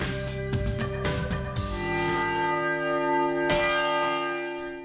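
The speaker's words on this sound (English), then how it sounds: "The sound of bells is the soundtrack of life." Church bells ring loudly with several rapid strikes at first, then long, resonant tones hang and slowly fade, with one more strike near the end and no voices.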